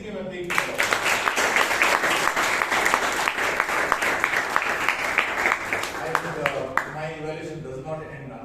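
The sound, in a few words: audience applause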